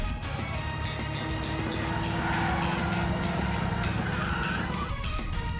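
Race car engines roar continuously in the video game Trails Through Daybreak, a dense, steady motor drone with shifting pitch and layered game effects.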